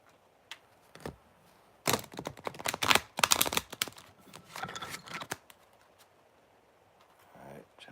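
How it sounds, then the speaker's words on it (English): Tarot cards being shuffled by hand in quick, crisp riffling bursts, several close-up flurries of papery flicks separated by short pauses, fairly quiet overall. "Let's do 3 shuffles for Geminis real quick"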